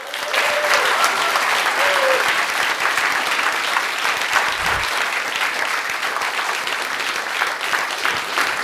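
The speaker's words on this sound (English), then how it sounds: "Let's give Nolan a big round of applause, can we?" An audience at a startup conference event with Nolan Bushnell applauds steadily, a dense wash of clapping that stays even and fairly loud, with a brief voice near the start.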